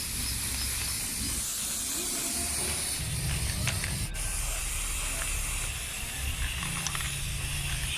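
A spray gun steadily repaints a yellowed camper van, giving a continuous loud hiss that runs unbroken throughout, with a low mechanical hum underneath.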